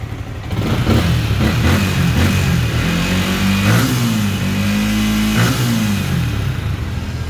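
A Yamaha Exciter 155cc motorcycle engine revs repeatedly up and down at close range, loud and steady throughout, with no voices over it.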